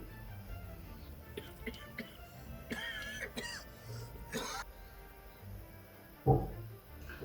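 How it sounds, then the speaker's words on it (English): A few soft coughs and throat clearing, faint and sporadic, ending with one louder cough near the end over quiet room noise. "coughing really gets to me."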